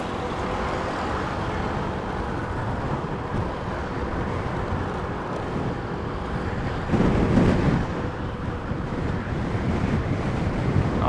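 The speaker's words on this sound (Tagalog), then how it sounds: "Lakas ang hangin." Strong wind buffets the microphone as a rider on a Yamaha Mio i 125 scooter travels a road in Olivares, a steady roaring rush with waves of gusting and no talk.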